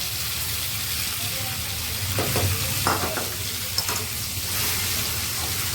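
Spice paste sizzling and frying in a pan for Bengali kolaisutir kochuri, a soft steady sizzle with a few stirring scrapes in the middle, close and fairly quiet.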